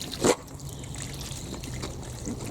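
Hot water pours onto the bonnet of a 2013 MINI One automatic, with a brief splash at the start followed by a steady, soft trickle and patter of liquid across the metal.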